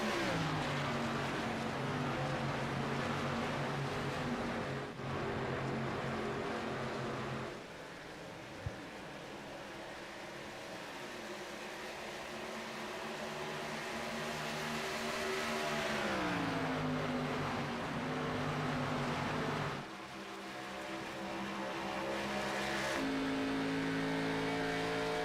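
Onboard ARCA race car engine at Atlanta Motor Speedway with Dustin Painter's car, a loud sustained roar with rising and falling pitch as it shifts and works through the turns.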